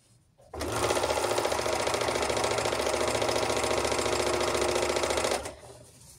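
Panavox Overlock 482 overlock sewing machine with a broken hook running steadily for about five seconds, a fast even mechanical whir and stitching chatter, close and alone, starting and stopping abruptly.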